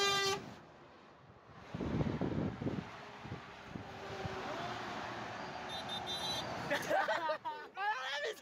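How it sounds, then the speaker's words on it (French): Horns of Citroën 2CV cars honk outdoors in short tonal blasts, at the start and again in a cluster near the end, over wind and road noise while people talk. "C'est les klaxons de deux chevaux."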